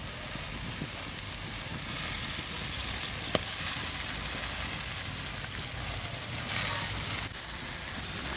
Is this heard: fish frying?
yes